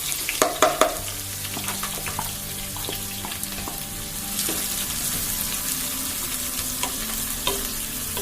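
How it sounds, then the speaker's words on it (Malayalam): Chopped shallots sautéing on high flame in a pan for a Kerala fish curry, a continuous sizzle broken by several sharp spatula scrapes and clinks, most of them early on. "ചുവന്നുള്ളി ചേർത്ത് ഹൈ ഫ്ലെയിമിൽ നന്നായി 1 മിനിറ്റ് ഇളക്കി കൊടുത്ത ശേഷം"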